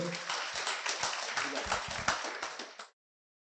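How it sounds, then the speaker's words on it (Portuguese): A church congregation claps loudly for the Lord in a lively, uneven round of applause mixed with voices, cutting off abruptly near the end. "Aplauda bem forte ao Senhor"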